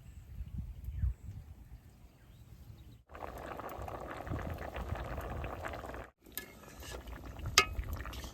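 An old-style village curry simmering in a pot: quiet, steady bubbling and soft liquid burbles, broken by two brief gaps, with a faint clink of a utensil near the end.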